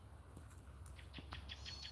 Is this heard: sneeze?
no